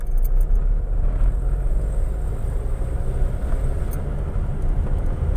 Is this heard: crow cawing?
no